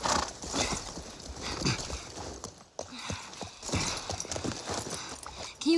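Horse hooves clip-clop with an occasional neigh inside The Last of Us Part I, set at the university area, under dense game ambience and background noise, with no clear talk.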